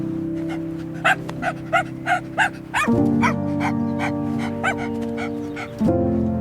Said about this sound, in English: A small dog is outside.